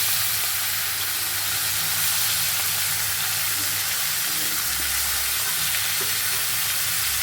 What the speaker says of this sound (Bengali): মাথাগুলো আমি ভাজতে দিয়েছিলাম